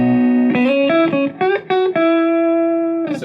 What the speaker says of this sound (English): And I can just put the Hall reverb on